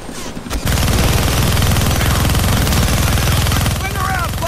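Continuous loud minigun fire in the Deadpool video game, a dense rapid rattle of shots running nearly unbroken, with a voice briefly heard over it near the end.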